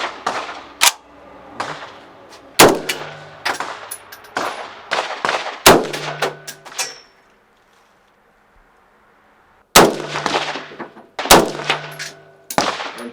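Handgun or rifle shots at an indoor shooting range in Prague, each sharp close crack followed by a ringing metallic clang from the steel target, fired in spaced clusters with a silent gap in the middle.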